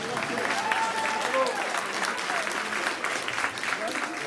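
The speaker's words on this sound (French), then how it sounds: "Vous faites un tonnerre d'applaudissements à Camilla," A hall audience at a public dictation event in Massy applauds Camilla with sustained, dense clapping, while a voice speaks briefly over the start.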